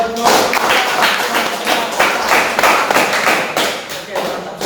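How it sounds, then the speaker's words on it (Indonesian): Audience clapping after a group presentation in a classroom, a run of brisk, uneven hand claps with a few voices mixed in over several seconds. "Tepuk tangan buat Tuhan."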